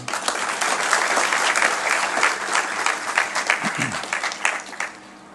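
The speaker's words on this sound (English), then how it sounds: "Please, a round of applause for them all." A lecture theatre audience applauds the staff and students at the opening of a computational and mathematical sciences building, steady dense clapping filling the room for several seconds, with a few brief voices under it.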